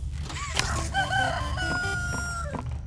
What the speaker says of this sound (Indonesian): Kenapa ada suara ayam?